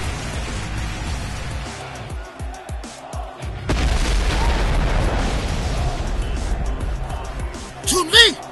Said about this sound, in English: Chun-Li has run point blank into an explosion.